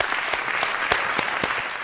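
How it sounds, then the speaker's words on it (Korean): A church congregation claps together at a New Year's Eve thanksgiving service, a dense, steady round of applause with sharp individual claps standing out, heard alone without talk. "한번 힘차게 박수해 주시기를 바랍니다."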